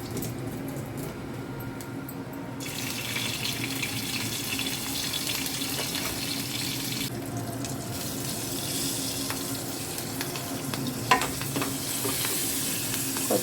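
Spices for a buttermilk curry temper in hot oil in a pan, giving a steady close sizzle and crackle that runs on without pause and with no talking.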